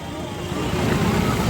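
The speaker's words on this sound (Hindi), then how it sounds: "गाड़ियों की आवाज़ बहुत है" Busy road through a village market in Bihar on a Chhath festival day, with a steady close wash of vehicle engine noise and traffic rumble and no clear gaps.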